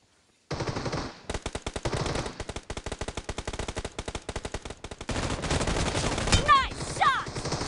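Automatic gunfire in PUBG, rapid bursts of machine-gun shots in quick succession, fairly loud, with a denser stretch of firing toward the end.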